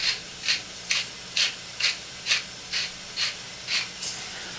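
A hand pepper or seasoning grinder is twisted over homemade lasagna, ten evenly spaced raspy grinding strokes in a steady rhythm, close and fairly quiet.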